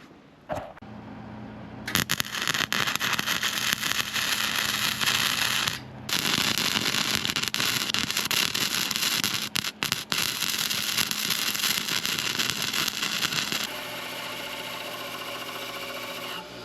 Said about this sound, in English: I guess I'm gonna try to weld this together now.